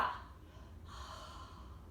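A forceful exhaled yoga breath, a single breathy whoosh through the mouth, close and soft, fading into quiet room tone.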